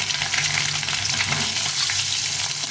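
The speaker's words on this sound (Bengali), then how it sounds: "মাখিয়ে ডিমগুলোকে ভেজে নিলাম" Fresh duck eggs coated and frying in a hot pan give a steady, dense sizzle and crackle, close and continuous with no voices.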